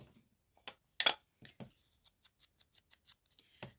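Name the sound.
trimming white edges off paper scraps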